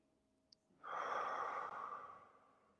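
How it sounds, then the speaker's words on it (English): One slow, deep breath heard up close: a quiet inhale through the nose, then a long, audible exhale through the mouth that fades gradually, with no talking. "Taking a few deep breaths, breathing in through the nose, hold the breath for a moment, and exhale through the mouth."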